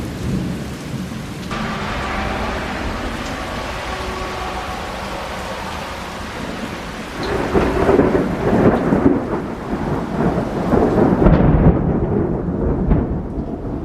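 Thunder rumbles through a steady heavy rainstorm in Green Valley, with rain pattering constantly and a louder, closer roll of thunder swelling near the end.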